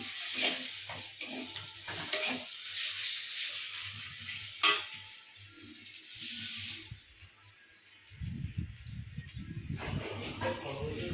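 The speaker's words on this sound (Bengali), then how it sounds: "এদিকে পটলের মশলাটাও কষছি" Spice masala for a pointed gourd curry fries and sizzles in a pan, with scraping stirs and a sharp clatter midway. The hiss thins out later while a low voice talks near the end.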